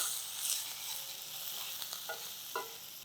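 Chopped onions sizzle and fry in a pan for vegetable bonda, a steady soft hiss with a few light stirring scrapes near the end, no voices.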